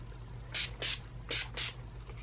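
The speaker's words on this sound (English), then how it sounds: "Then I'm going to take my finishing spray again." A makeup finishing spray misted in four short bursts, two quick hisses, a pause, then two more, close by over a steady low hum.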